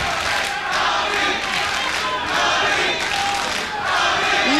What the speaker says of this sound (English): Listen to this crowd rallying behind Prince Emir